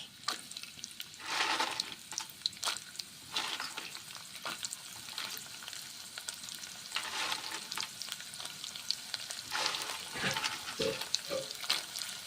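Sliced onions and lentil bori fry in hot mustard oil, a quiet crackling sizzle punctuated by irregular scraping and tapping of a spatula against the pan.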